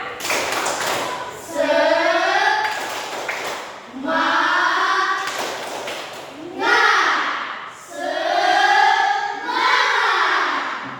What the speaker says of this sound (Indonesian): Kita buat tepuk semangat.